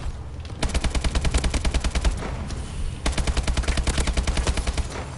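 AK rifle fire in a Call of Duty match: two sustained automatic bursts of rapid, evenly spaced shots, loud and close, separated by a short pause.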